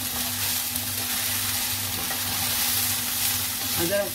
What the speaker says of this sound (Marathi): चांगलं परतून परत आपण झाकण ठेवून शिजवायचे 2 मिनिटं